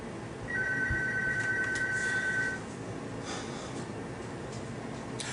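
A telephone rings indoors with a steady electronic trill lasting about two seconds, fairly loud over a quiet room, then stops.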